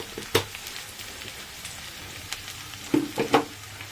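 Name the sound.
frying for jackfruit prawn curry, turmeric added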